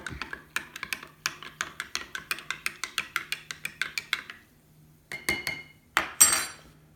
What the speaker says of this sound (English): all you have to do is stir it up